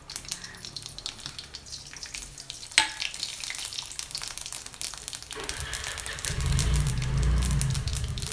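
Mustard seeds and urad dal frying in a spoonful of oil, a steady close crackling sizzle with spattering pops, growing denser and louder toward the end with a low rumble underneath.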